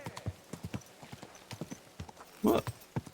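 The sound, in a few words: horse hooves clip-clopping in Kingdom Come Deliverance II video game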